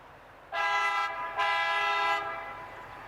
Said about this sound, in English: it's got a beefier train horn than I was imagining